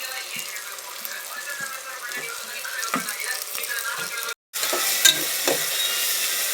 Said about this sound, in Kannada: ಸೋಂಪು, ದೊಡ್ಡ ಲವಂಗ, 1 ಸ್ಟಾರ್ ಹೂವು, ಕಲ್ಲು ಹೂವು ಹಾಕಿ ಹುರಿದುಕೊಳ್ಳಿ.